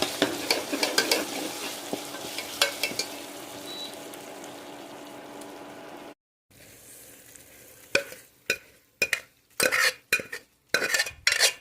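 Green chilli and ginger paste sizzles in a pan while a utensil scrapes and taps against the metal. After a brief pause, louder clattering strokes come in irregular bursts.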